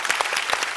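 An audience clapping for singers on a music show stage, brisk overlapping claps at moderate level through the short moment.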